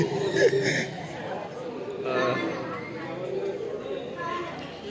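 Steady crowd babble fills the busy grounds of the Mahad Vinayak Ganpati temple, a dense, continuous hum of many overlapping voices at moderate volume with no single speaker standing out.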